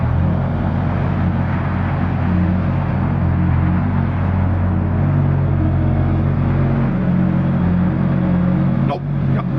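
A rear-wheel-drive swapped Cavalier is driven slowly up into a trailer, its engine giving a continuous low, close rumble with only slight changes in pitch, and faint voices nearby.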